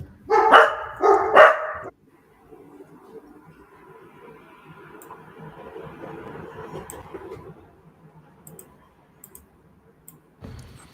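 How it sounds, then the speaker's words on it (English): Two loud barks from friendly dogs in a home, close and sharp, then quieter shuffling and clicking noises in the room for several seconds. "I've got some very friendly dogs."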